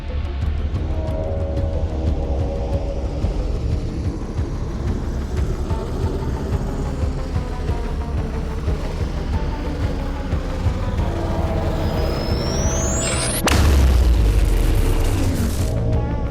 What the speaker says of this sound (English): We'll just write a more tense version of the music and record some distorted guitar and mandolins